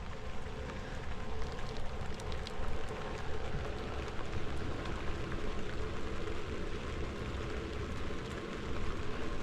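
Steady rain patters on an inflatable tent in the West Virginia woods, a dense, even hiss of countless close drops with no break or voices throughout.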